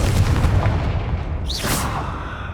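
A Confringo blast spell in Hogwarts Legacy goes off as a loud, rumbling boom that trails into a fading crackle, followed by a brief high whoosh.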